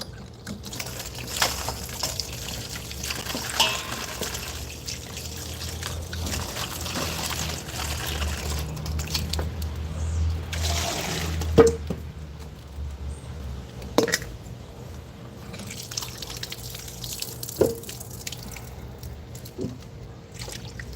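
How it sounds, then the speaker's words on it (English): Potatoes (aloo) being washed under running water in a kitchen, a soft steady trickle with occasional splashes and clunks, fairly quiet and uninterrupted by speech. "let me get this aloo wash out again"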